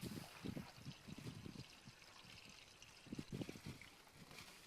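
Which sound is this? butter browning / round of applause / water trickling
water trickling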